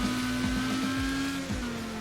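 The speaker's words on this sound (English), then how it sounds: "That engine just screams, shift me." Race car engine in the video game Wreckfest, revving high and steady with a strained, whining tone and repeated brief dips as the pitch climbs through the gears, loud and close.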